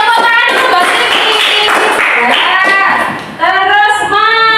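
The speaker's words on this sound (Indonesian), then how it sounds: "Tepuk tangan untuk Mbak Silvi" Applause from a classroom audience for a participant, a short burst of clapping mixed with a raised voice and children's singing-like chatter, close and loud.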